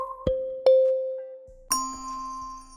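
Bell one-shot samples from a drum kit sample pack: three bright, ringing bell strikes, each clean and close with a sustained metallic tone, played alone without voices.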